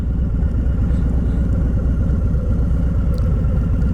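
A 2020 Harley-Davidson Low Rider S motorcycle engine rumbles steadily at low revs as the bike pulls in, a loud, continuous, close throb with no talk.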